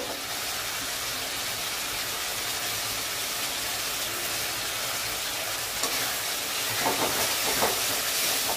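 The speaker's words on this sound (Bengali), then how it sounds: "মশলাটা ভালো করে ভেজে নেব" Spice paste with salt and turmeric fries for a fish head curry made with a 3 kg catla head, producing a loud, continuous close sizzle and hiss, with stirring scrapes that grow busier near the end.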